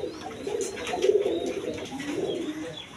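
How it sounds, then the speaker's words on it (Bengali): Healthy pigeons offered for sale coo in low, rolling phrases, two swelling calls close by over a faint background hum, without speech. "সুস্থ সবল কবুতর একবারে।"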